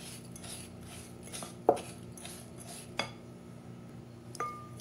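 A spoon mixes Oreo cheesecake batter in a bowl, giving soft repeated scraping strokes and a few distinct clinks against the bowl, close and fairly quiet.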